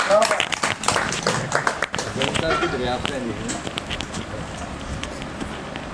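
Audience at an Urdu poetry evening applauds a young poet at his first mushaira, a burst of close clapping that fades into softer scattered claps and murmuring voices.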